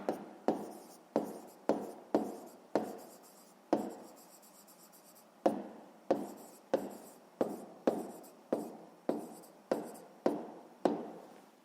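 Writing on a board, with a steady run of crisp strokes and taps, each followed by a short scratch and coming at a quick, fairly regular pace. There is one brief pause midway. The sound is close and soft.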